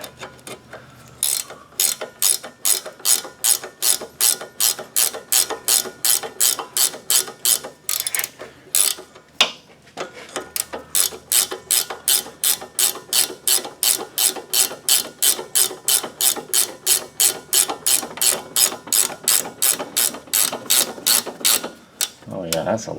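A ratchet wrench loosens a long bolt on the front control arm of a 2007 Pontiac G6, sounding as rapid, even clicking in two sustained bursts separated by a brief pause, close and clear with no talking.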